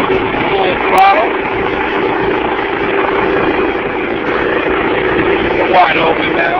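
A 5 hp Briggs and Stratton air-cooled engine pushes a 14-foot jon boat at full throttle, a loud, steady, continuous drone from close range with a faint voice beneath it.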